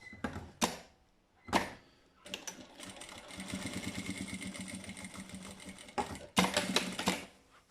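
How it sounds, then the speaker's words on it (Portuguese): A sewing machine stitching a seam along the fold of a handmade wallet: two short bursts, then a sustained run of rapid mechanical stitching, then another short burst, close and clear with quiet pauses between. "E agora sim vou passar a costurinha em cima do meu vinco."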